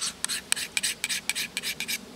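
A file rasps along a knife blade during outdoor tool sharpening, about a dozen quick, even, close strokes in a steady rhythm.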